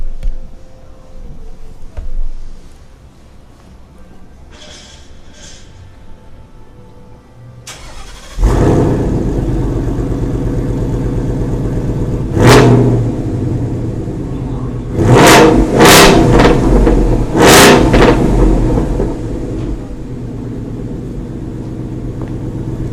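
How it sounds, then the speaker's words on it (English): A 2018 Ford Ranger engine cranks and fires after a quiet start, settling into a steady idle before several sharp revs rise and fall, loud and close. "I'll give it a quick start up, just so you can get the sound, maybe a bit of a rev too."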